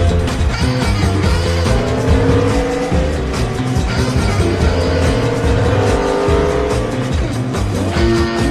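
Race cars roar around a track in the animated Cars movie, engines revving loud and continuous with tire squeals, layered over a dense, busy mix of music and crowd-like noise.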